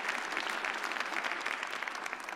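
An audience at a French talk on biodiversity applauds panel guests, a dense, even patter of many hands clapping continuously throughout.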